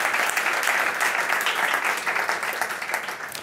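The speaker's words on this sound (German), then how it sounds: "Auch Sie begrüßen wir natürlich mit einem Applaus." Audience applause at a corporate dialogue event in Upper Austria, a dense, steady wash of many hands clapping close and loud, easing slightly toward the end with no talk over it.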